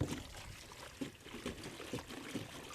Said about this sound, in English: I'm going to fill the reservoir up here with just regular rainwater